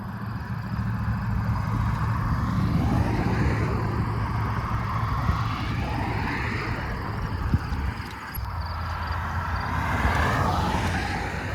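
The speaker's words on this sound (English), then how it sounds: "to avoid this train of cars that's coming up here" A line of cars streams past on a rural road near Lake Winnipeg, a steady, broad rushing hum of tires and engines that swells and fades as vehicles go by, with no voices.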